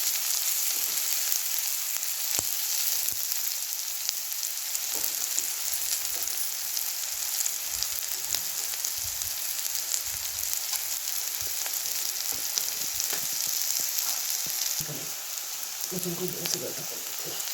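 Chopped onions frying in a pan for a bitter gourd (karela) stir-fry, a steady dense sizzle running throughout with occasional stirring scrapes, and a faint voice briefly heard near the end.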